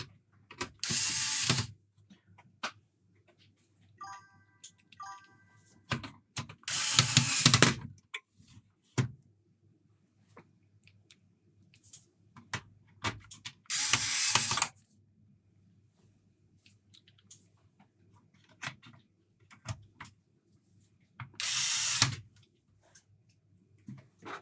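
A screwdriver drives screws into a Mega Drive 2 console shell, giving several short bursts of clicking ratchet sound separated by quiet pauses, close and fairly loud, with faint handling noises between.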